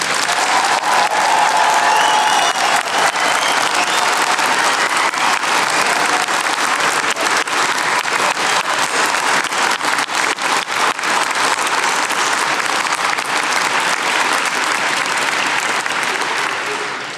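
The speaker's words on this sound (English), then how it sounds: "give all of our graduates today a huge round of applause" Loud, sustained applause from a large crowd at a university degree ceremony in Brighton, steady clapping that fills the whole stretch without a break and fades slightly at the very end.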